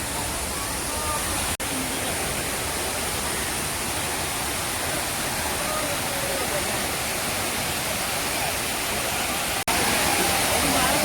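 Water pours steadily at Gavli Dev waterfall, a dense, even rushing hiss that fills the whole stretch at moderate loudness, with a faint voice underneath.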